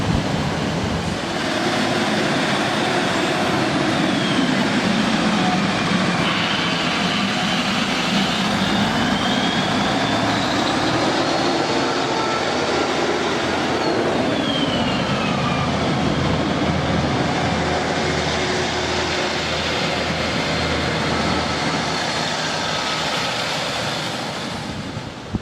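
A train bound for Manchester Piccadilly pulls into the station with a sustained, loud rolling rumble and shifting tonal whines from the motors and brakes, steady and close throughout with no voices.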